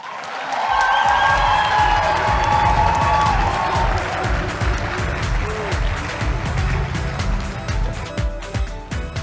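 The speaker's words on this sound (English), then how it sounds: "a big round of applause as we welcome the Unlearning Lady, Ms. Zanele Njapha." Loud, sustained audience applause with cheering as a keynote speaker takes the stage at a national student exposition event, dense clapping that gradually thins out over nine seconds.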